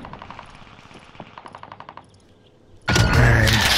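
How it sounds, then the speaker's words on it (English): Gunfire in the battle royale game Call of Duty Fortune's Keep: rapid bursts of automatic shots, fairly distant and clipped, repeat in short runs before a sudden loud, close wash of sustained noise takes over at the end. "Oh, I heard shots."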